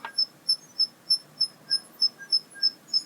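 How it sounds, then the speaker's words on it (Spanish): A Liteon laptop power supply gives off a thin, high chirping whine that pulses about three times a second, cricket-like, steady and fairly close, with no talk over it. "Es un pitidito muy finito."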